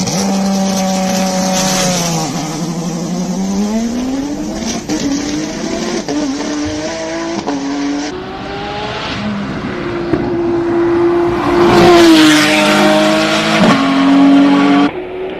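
Race car at the Simola Hillclimb 2025 King of the Hill finals, its engine screaming up through the gears with rising and falling pitch on each shift, loud and close, with a brief tire squeal.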